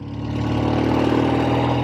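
A 1964 Triumph Thunderbird motorcycle engine idling with a little choke on, giving a steady, close, throbbing run that swells slightly in loudness, with no talking.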